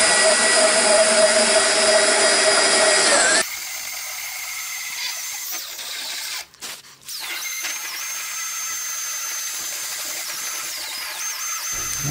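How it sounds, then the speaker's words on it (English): A drill fitted with an egg-shaped burr smooths the edges of a wood repair, a loud, steady high whine that drops in pitch partway through and briefly cuts out before running on. "Switch back to this egg-shaped burr for"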